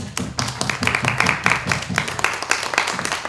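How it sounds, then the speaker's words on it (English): A small audience at a community health talk gives a round of applause, with sparse, distinct individual claps in an uneven rhythm, close and moderately loud, rather than a dense wash. "Huge round of applause."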